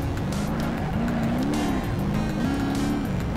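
A Cadillac Deville slides through drifts in BeamNG.drive, its engine droning steadily while tires squeal in repeated rising and falling wails, loud and close with no talking.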